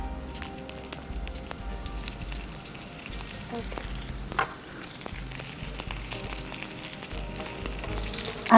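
Papad frying in a little oil makes a steady crackling sizzle at close range, broken by brief scraping sounds, with no talk over it.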